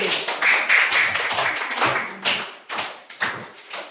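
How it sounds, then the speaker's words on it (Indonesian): Students in a classroom clapping for classmates who performed a role play, a scattered, uneven patter of hand claps and taps that rises and falls in loose bursts, fairly close. "Berikan tepuk tangan teman-teman sampean yang sudah bermain."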